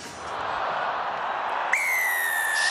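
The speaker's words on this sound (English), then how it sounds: "Shrill blast of the whistle from Luke Pearson" A referee's shrill whistle blast opens a Six Nations rugby match between Ireland and Italy at the Aviva Stadium, one long piercing tone rising over a steady crowd roar.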